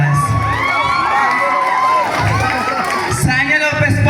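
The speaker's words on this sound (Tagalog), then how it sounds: "Ba't di po natin sabay-sabay na palakpakan at hiyawan ang tunay na kawangis ni Binibining Sanya Lopez." A pageant crowd cheers and shrieks loudly in a dense, continuous roar, with high-pitched shouts and whoops layered over clapping throughout.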